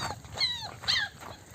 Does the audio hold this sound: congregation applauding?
no